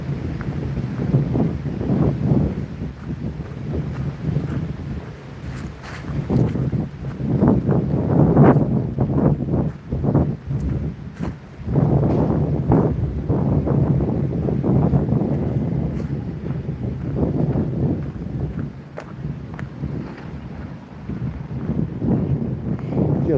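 Strong wind on an open lake while bass fishing in roughly 30 mph gusts, a loud, rumbling buffet against the microphone that surges and eases in waves throughout, with no clear talk.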